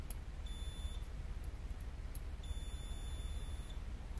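A Cen-Tech 11-function digital multimeter gives continuity beeps: two steady high-pitched tones, each roughly half a second to over a second long, sounding close over a constant low background hiss.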